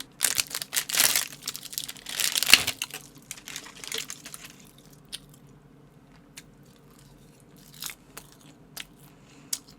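Close eating of a samgyeopsal pork belly lunch box, with crisp bites and crunches clustered early, then quieter chewing and occasional crinkling, near and without talk.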